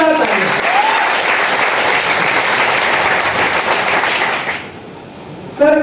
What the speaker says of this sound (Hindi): एक बार जोरदार तालियां चाहूंगा सर के लिए, जोरदार तालियां।